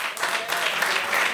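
An audience applauds in a hall in Yaoundé during a stage show, a short dense wash of many hands clapping that stays steady and fairly loud throughout.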